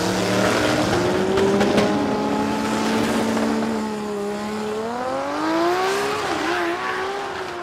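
Drag racing run by a Corolla panel van at Warwick Dragway in Australia, a loud engine roaring and climbing in pitch through gear changes, sustained and fairly close with no talk heard.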